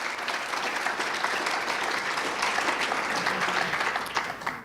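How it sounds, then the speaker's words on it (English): A ceremony audience applauds Scott with a sustained, even round of many hands clapping, heard at a moderate distance with no talk over it. "Give him a nice round of applause."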